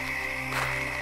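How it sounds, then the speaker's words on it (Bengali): Frogs croak on a dark, overcast night in a quiet rural Bengal village, a continuous steady chorus with a constant tonal drone and no voices. "সেই স্টেশন থেকে অনবরত ব্যাং, ঝিঝির ডাক আর কিছু রাত পাখির আওয়াজে এবারে কানে তালা লাগাবার উপক্রম হয়েছে।"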